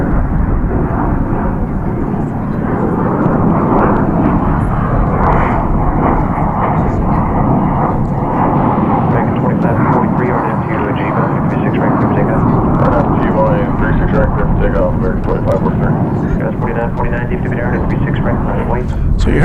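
An airliner takes off at DFW International Airport, its engines a loud, sustained roar that holds for the whole stretch, with a voice speaking over it.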